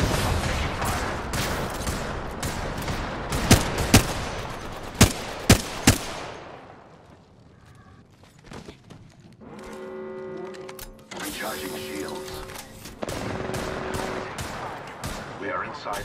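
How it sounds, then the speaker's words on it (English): Video game gunfire aimed at the player crackles in rapid bursts and sharp single shots over the first several seconds. It then fades into quieter ambience with faint electronic tones. "Listen up, I'm getting shot at."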